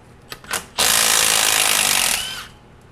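A power tool on a 3/8 12-point socket spins out the center support bolt of a 4L80E transmission, a few short bursts followed by a loud, sustained whirring run of about a second and a half, close to the microphone.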